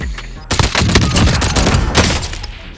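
Rapid gunfire from the video game Warzone bursts in after a short pause, loud and dense, with repeated shots rattling close for a couple of seconds.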